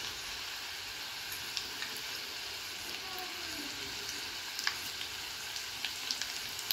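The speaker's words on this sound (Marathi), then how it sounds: "त्यानंतर जिरे मोहरी टाकून घेणार आहोत आपण आता।" Cumin and mustard seeds hit hot oil in a pan where garlic has already fried, giving a steady close hiss and sizzle with small pops, with no voices.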